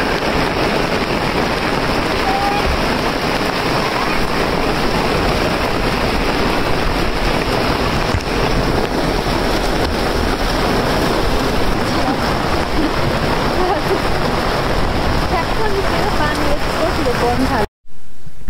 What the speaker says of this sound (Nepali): कत्रो पानी परेको आम्मामा